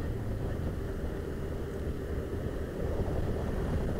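A TVS Raider 125 motorcycle cruises at around 58 km/h, giving a continuous steady engine drone mixed with heavy wind rush on the microphone and no break or speech.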